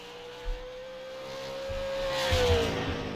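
A super late model race car heads out for a qualifying lap at 5 Flags Speedway, its engine a steady distant drone that swells louder and rises in pitch, then eases off, over crowd ambience.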